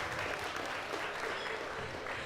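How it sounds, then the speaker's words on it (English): An audience applauds a volunteer at a talk, with dense, continuous clapping filling the whole moment at an even loudness. "Give her a big round of applause."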